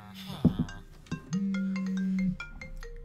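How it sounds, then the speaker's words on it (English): An incoming call rings on a mobile phone as a short chirpy burst followed by a long sustained electronic tone, close and fairly clear, with no talking over it. "someone is phoning my phone and I don't recognise the number, so I'm not going to answer it"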